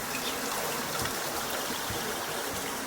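Water is poured from a jug in a steady, close trickling stream that runs evenly for the whole stretch, with no voices.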